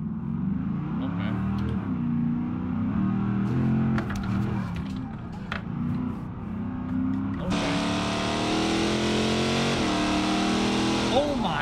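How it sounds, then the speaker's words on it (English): A 1000 hp Dodge Demon engine roars and revs continuously in BeamNG.drive, the sound swelling and brightening partway through as it echoes in a tunnel, with a voice talking over it. "you guys hear the car through the tunnel?"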